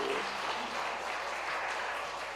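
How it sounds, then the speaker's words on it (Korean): Church congregation applauding together during a Sunday service, a steady broadband wash of clapping at moderate distance that fills the whole stretch without a break. "박수."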